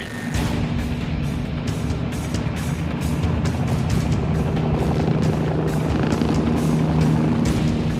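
Helicopter circling low over a holiday camp before landing, rotor and engine thrumming loud and steady from inside the cabin, with a rhythmic chop throughout.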